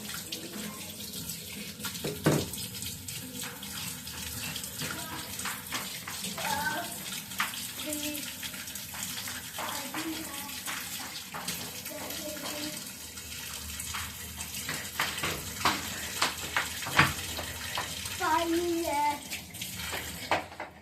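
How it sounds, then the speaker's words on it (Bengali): Running water splashes steadily from a tap over a stone grinding slab being washed, with scattered knocks and scrapes of handling and faint speech in the background. "শিল্পাটা ধুয়ে নিই"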